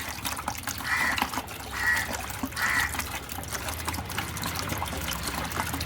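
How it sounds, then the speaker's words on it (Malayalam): Water being added bit by bit and stirred into homemade floor-cleaning lotion, a continuous trickling and swirling with a few brief brighter squeaks or chirps, close and moderately loud, no voices. "കുറേശ്ശെ വെള്ളം ചേർത്ത് നന്നായി ഇളക്കി കൊടുക്കാം"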